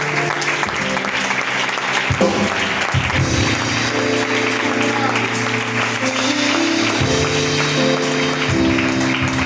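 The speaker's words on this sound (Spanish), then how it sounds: "Dale un fuerte aplauso al Señor." Church congregation applauding warmly during a Spanish-language sermon, a dense, steady wash of clapping that lasts throughout, layered over sustained keyboard or organ chords.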